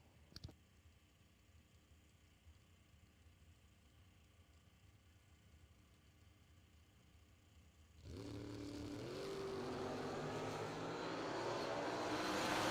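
A Chevelle and a 1967 Camaro launch at a bracket drag race; after a long, faint lull, a broad engine roar surges in suddenly and keeps building, heard from some distance.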